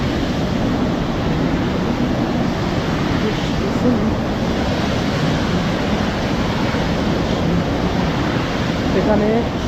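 Seven Sisters waterfall in Sikkim pours down in a loud, unbroken wash of white noise that holds steady throughout.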